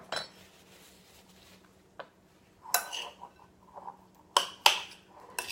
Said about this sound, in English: So just stir that out.